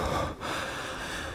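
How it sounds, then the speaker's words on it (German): A character in the 2005 video game King Kong breathes heavily, a loud, rough, continuous snorting breath with a brief pause, close and alone. "kannst du bitte aufhören, so laut zu atmen?"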